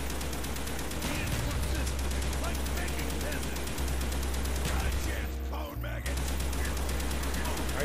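Rapid automatic gunfire rattles almost continuously as zombies are shot in Call of Duty: Black Ops, dense repeated shots over game music with a brief pause near the end.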